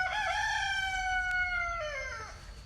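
A rooster crowing once in a long, loud, close call that holds steady and then drops off at the end, over a faint background hum.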